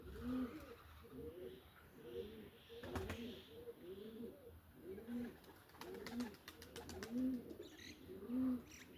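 Pigeons or doves coo in a repeated, rhythmic pattern at a fairly faint distance, with a few short chirps and sharp clicks scattered between the calls.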